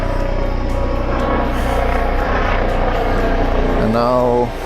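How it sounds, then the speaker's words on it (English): A medical helicopter passes overhead with a loud, steady rotor and engine drone that swamps everything, and a rising whine near the end, with someone talking over it. "the medical helicopter decides to fly on top of me"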